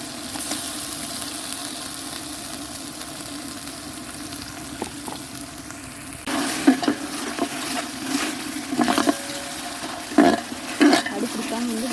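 Ground small-onion paste sizzling in a hot pan, a steady soft hiss broken by louder bursts of stirring and spoon scrapes in the second half.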